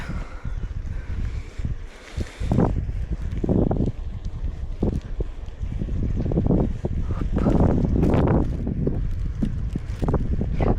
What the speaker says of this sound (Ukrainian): цей вітер мені заважає